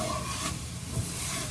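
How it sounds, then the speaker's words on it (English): A pot of turkey and sausage gumbo with a dark roux simmers on a home stove: a soft, even hiss with faint bubbling and light stirring texture, close and quiet, no talking. "Our pot's been simmering away over here."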